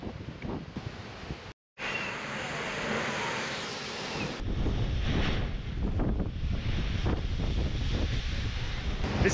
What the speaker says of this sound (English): especially on a day like today when the surf is pumping.